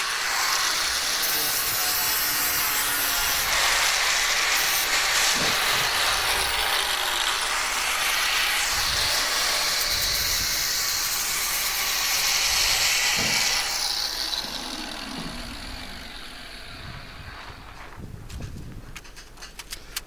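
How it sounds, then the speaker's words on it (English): An angle grinder with a flap disc deburrs the ragged edge of an aluminum sheet during boat work, a loud, continuous abrasive hiss and whine that holds steady and then tapers off near the end. "That's why I brought the flap disc out on the angle grinder."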